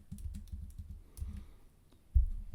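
Quick, light keystrokes clatter on a computer keyboard in short bursts, ending with a firmer tap, close up and quiet.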